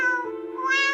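A cartoon cat meows in a single drawn-out, tonal cry, loud and close, rising slightly toward the end, with no talk over it.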